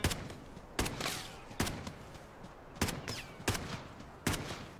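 Enemy gunfire in the game Delta Force with HRTF turned off: about six sharp single shots at irregular intervals, each ringing briefly over a quiet background.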